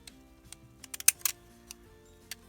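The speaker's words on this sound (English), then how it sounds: "I'm going to cut it with my postage stamp scissors" Small postage stamp scissors snip through paper in a quick run of crisp, close clicks, a few sharper snips clustered in the middle, with no talking.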